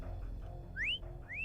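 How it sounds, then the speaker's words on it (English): Two rising whistle tones in the Arknights game, each a short upward-sliding whistle, sound clearly over a low background hum. "They added a real whistle sound to this part."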